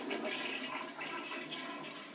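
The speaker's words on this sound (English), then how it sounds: "flush that now." A hotel bathroom toilet flushes in one steady, continuous rush of water, fairly close and alone with no voices.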